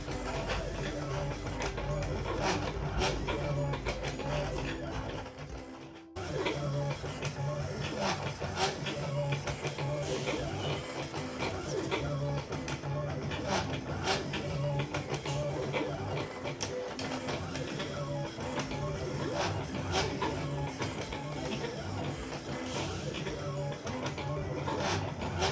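A craft cutting machine works on a reused cutting mat, giving a steady mechanical whir with rapid ticking and clicking from the carriage. The sound is close and continuous, briefly dropping out once before resuming.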